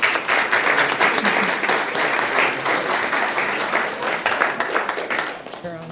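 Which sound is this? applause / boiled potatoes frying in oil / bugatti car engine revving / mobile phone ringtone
applause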